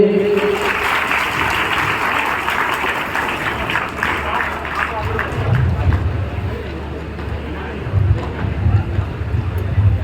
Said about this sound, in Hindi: तालियों के साथ स्वागत करिए।